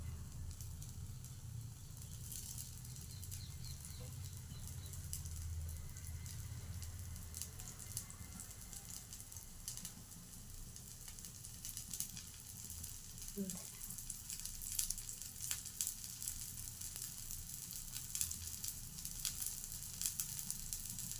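Curry sizzling in hot oil in a pan for ponganalu, a steady close crackle and hiss running throughout, with faint background noise.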